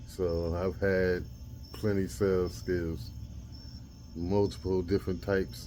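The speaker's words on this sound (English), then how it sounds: "You hear the crickets in the background." Crickets chirp at night as a constant high, thin trill in the background, running steadily beneath someone speaking close by.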